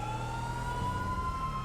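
A police car siren in the GTA 5 video game, a loud, steady wailing tone slowly rising in pitch, with engine rumble underneath and no voices.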